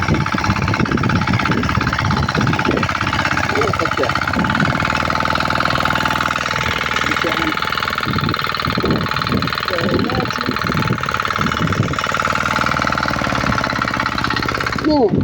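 A Zubr NT 105 walk-behind tractor runs with a homemade harrow attached to its tiller, its engine droning loud and steady throughout while someone talks over it.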